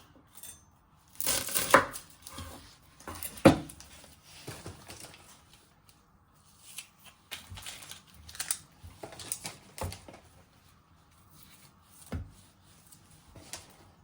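A knife chops and trims the ends of an onion on a cutting board, sharp irregular taps clustered early then scattered, close and fairly loud with quiet gaps between.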